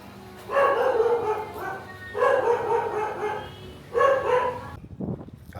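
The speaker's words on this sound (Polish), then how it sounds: "Szczeka nawet." A dog barks loudly and close in a quiet street in Bali, three short bursts of rapid, harsh barks separated by brief pauses, ending with a soft rustle.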